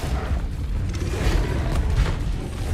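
A Bombarda blasting spell goes off in the Hogwarts Legacy video game, a loud, sustained rumbling boom with dense low-end weight that stays heavy across the whole stretch, with no voices.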